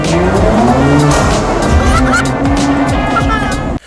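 A Mercedes C43 AMG in Sport Plus mode roars through a tunnel, its engine note climbing loud and close, echoing off the walls, while a voice whoops over it.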